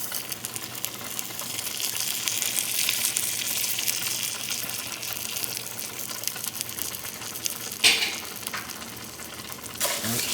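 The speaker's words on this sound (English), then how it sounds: "gonna start by adding some oil to this hot pan" Two cups of rice stirred into a couple tablespoons of hot oil in a pan for étouffée, making a steady hissing sizzle with louder scraping stirs near the end, close by and with no talking.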